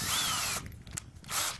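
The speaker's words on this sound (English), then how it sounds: "what I was doing was putting one screw in" A power drill drives a single screw while assembling spacers for a homemade double TV antenna, whirring loudly in one sustained burst, pausing briefly, then spinning up again near the end, close and with no talking.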